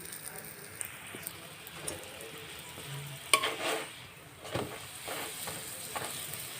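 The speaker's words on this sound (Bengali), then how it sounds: "এবার সেম পদ্ধতিতে বাকি সবগুলো ভেজে নিয়ে আপনাদের কাছে আসছি।" Palm (taal) parathas fry in a pan with a quiet, crackling sizzle and a few soft utensil knocks and scrapes. The sound stays low and continuous.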